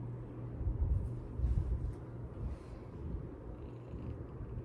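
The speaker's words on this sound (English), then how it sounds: "She's purring so loudly right now." A cat purrs steadily and loudly close up, a low rumbling vibration that pulses gently with each breath, with no talking.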